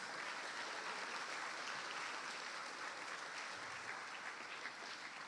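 Steady applause from a school graduation ceremony audience honoring the sponsors, a broad, even wash of clapping that holds for several seconds, fairly distant and soft, with no voices on top.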